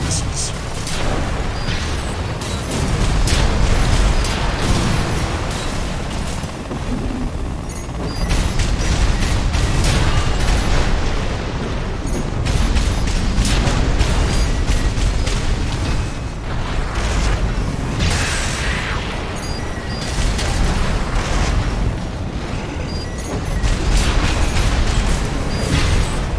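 Missiles launch and explode during a mech battle in Armored Core 6, with repeated booms and mechanical clatter layered over dense game noise and a voice talking.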